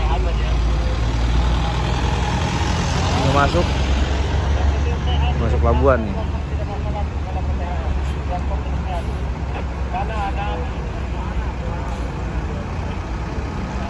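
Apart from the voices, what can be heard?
buses and vehicles at Merak port entrance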